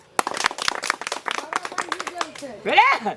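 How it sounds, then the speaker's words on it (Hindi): Scattered audience clapping at a Maithili comedy political speech, sharp irregular claps for a few seconds, ending with a voice speaking. "एक बेर ताली बजाओ"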